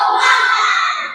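A classroom of children performs a 'tepuk semangat' spirit clap cheer in a loud, brief burst of voices shouting together.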